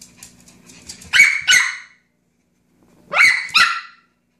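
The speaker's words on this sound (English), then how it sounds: "Don't just bark." A small dog barks in two separate pairs of sharp, loud, close barks, with a faint whimper and quiet lead-in before the first pair and near silence between them.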